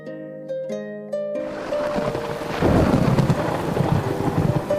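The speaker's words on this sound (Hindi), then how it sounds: "अरे, बारिश होने लगी।" Rain begins falling and thunder rolls in, a low rumbling swell that builds over steady hissing rainfall, rising louder midway and continuing without any voices, after a quiet stretch with soft tonal music at the start.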